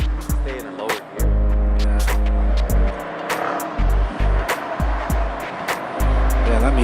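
Race cars driving at a track, including one moving slowly in a low gear, deep rumbling engine tones rising and falling as cars pass close by, with sharp bursts and clatter between passes.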